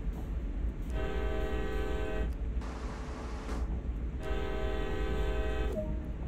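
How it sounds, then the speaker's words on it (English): A CSX freight locomotive horn in the Train Sim World game sounds two long, loud chord blasts with a short gap between them, over a steady low rumble of the idling coal train. "Sound the horn."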